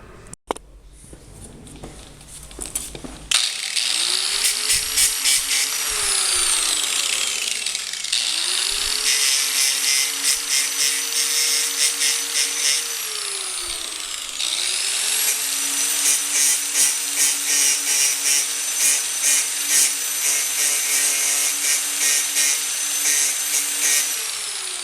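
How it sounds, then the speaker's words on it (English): A power tool grinds close and loud, cleaning paint and plating off a metal bolt before welding, running in long sustained passes with its pitch sagging and recovering as it bites into the metal. "So I got to clean this paint off of this area here and then take the plating off of this bolt"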